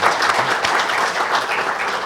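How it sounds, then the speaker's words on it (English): At a conference session on biofuel policies, an audience gives a dense, sustained round of applause for the speakers, steady and fairly loud throughout, with no talking. "I think should give one round of applause for all the speakers."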